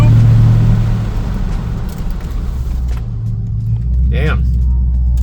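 A heavy car with an SVT engine swap rumbles loudly through a brake test, its low engine drone steady and close, dipping briefly mid-run before the throttle comes back up.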